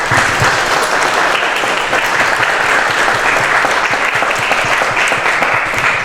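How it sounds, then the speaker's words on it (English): A loud, close round of audience applause for a moderator and panelists at a lobby day panel, dense steady clapping sustained throughout with no talk over it. "Can we give a round of applause to our moderator and our panelists?"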